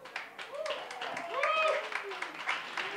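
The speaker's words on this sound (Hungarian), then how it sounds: "most nekik szeretnénk egy tapsot küldeni" A concert audience claps for the organisers at a Biatorbágy youth wind band performance, moderately loud clapping mixed with sung or spoken voices and ringing tones.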